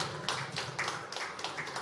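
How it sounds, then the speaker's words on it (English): Brief applause from an audience at a cybersecurity and AI business forum, a light, scattered patter of claps that stays at a steady moderate level. "An applause."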